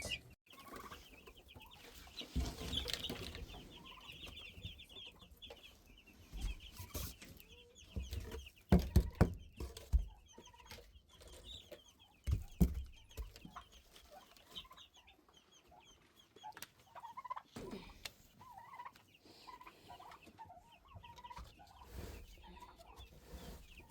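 Cornish Cross meat chickens cluck and squawk in a flock, with irregular nearby calls and bursts of louder fowl noise over a quiet farm background.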